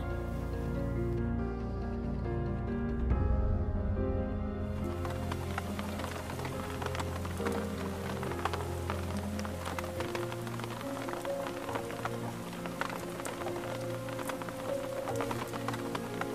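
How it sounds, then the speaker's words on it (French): Steady rain falls outdoors on a parking area, a dense continuous patter and drip that stays constant throughout, with a brief louder splash near the start and no voices. "Il pleut"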